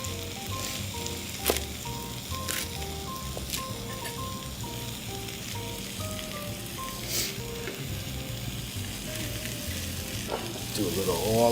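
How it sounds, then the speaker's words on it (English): Mushrooms warming in an oiled frying pan give a steady close sizzle throughout, with a few sharp pops and a light stir of the pan near the end, no one talking. "And I'm not looking for a full saute on these mushrooms. I just kind of want to get them warmed."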